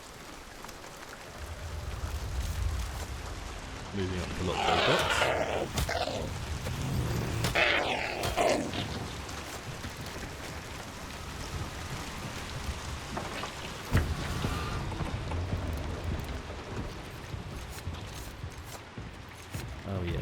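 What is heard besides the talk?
rain in video game Hunt: Showdown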